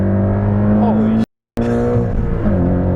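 Porsche Cayman 718 GTS 2.5 with sport suspension carried fast through a turn, a loud steady engine drone with shifting pitch that cuts out briefly midway, a voice speaking over it.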